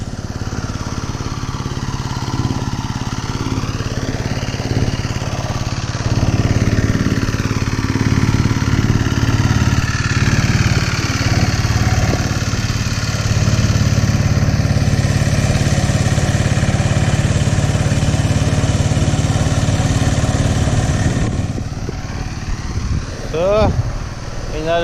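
A handmade tractor engine in the Philippines ploughing a flooded rice paddy, a steady mid-pitched motor drone that swells and eases, running loud and close under someone talking for most of the clip.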